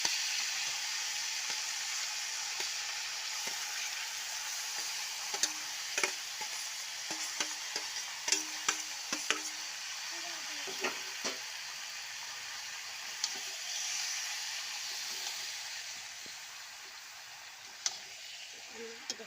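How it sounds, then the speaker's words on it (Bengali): Young jackfruit and potato sautéing with spices in a pan, giving a quiet, steady hiss dotted with scattered small clicks and spatula scrapes throughout. "দশ মিনিট পর্যন্ত এটাকে মশলাটাকে একটু কষাতে দেব।"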